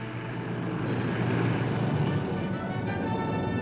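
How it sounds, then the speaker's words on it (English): Military planes taking off for a trouble spot, a steady loud roar of engines that holds throughout with no speech over it. "Planes take off for the local trouble spot."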